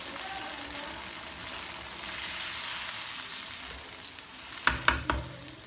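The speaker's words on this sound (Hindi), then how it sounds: "अब इसमें मैं पानी डाल दूँगी" Water hitting chickpeas frying in a hot pan brings a steady sizzle, then three sharp hissing bursts near the end, close and fairly loud.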